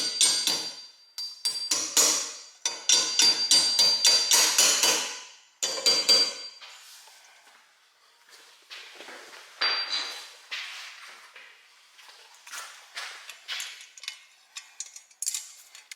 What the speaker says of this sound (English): tap in your Dynabolt